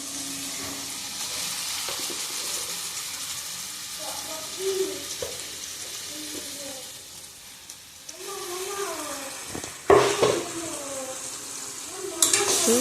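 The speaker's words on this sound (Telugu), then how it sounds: "చికెన్ కడుగు పెట్టుకున్న చికెన్ని యాడ్ చేస్తున్నాం ఇప్పుడు." Washed chicken pieces going into a pan of hot masala for pepper chicken, giving a soft steady sizzle with some stirring and scraping, a couple of louder clatters near the end, fairly quiet and close.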